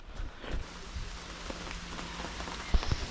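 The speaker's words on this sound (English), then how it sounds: "It's raining so much." Heavy rain pours steadily over an outdoor airsoft field, a dense hiss of drops with a few sharper, closer splashes, and no voices.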